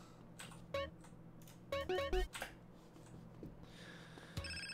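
A phone rings in the video game GTA San Andreas Definitive Edition, with short repeated electronic trill bursts over a steady game background hum, mid-level and close.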